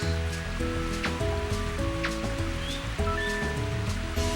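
Rain hisses softly and continuously on a Mario Golf course in windy weather, blended under sustained game music tones.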